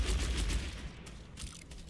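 McCree's revolver in the Overwatch video game fires a fast, rattling burst of shots, loud and close at first and then thinning into scattered cracks and mechanical clicks.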